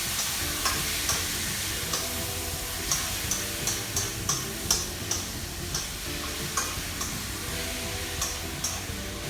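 Pork sizzles loudly in a hot pan for a teriyaki stir fry, a constant crackling hiss broken by regular ticking taps of a utensil as it is stirred, close and without talk.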